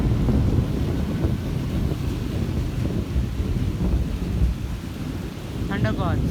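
Thunderstorm with steady rain and low rumbling thunder, constant and loud, with gusts of wind buffeting the microphone and a short faint chirp near the end.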